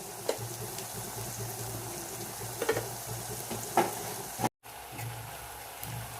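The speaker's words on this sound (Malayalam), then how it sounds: "നന്നായിട്ടൊന്ന് ഇളക്കി കൊടുക്കുക ഇതിന് എണ്ണയിൽ കിടന്ന് നന്നായിട്ടൊന്ന് മൂത്ത് വരണം" Sliced onions frying in hot oil in a pan for a fried sardine curry, with a steady close sizzle and occasional scraping stirs of a spoon, a brief dropout midway, no voices.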